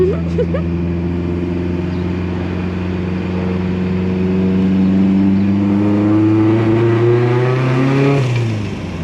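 The turbocharged engine of a Mazda MX5 Miata drones steadily under load as it builds revs over several seconds, rough and uneven as it misfires, then the engine note drops sharply near the end.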